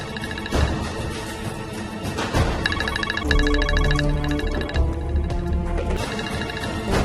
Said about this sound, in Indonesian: Nomor ini lagi yang telepon.